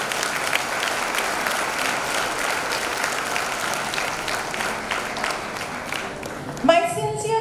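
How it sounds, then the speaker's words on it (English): Audience applause at a girls' high school annual day, sustained steady clapping from a large crowd, fairly even in loudness, with a voice cutting in near the end. "I invite you to put your hands together and give them a loud round of"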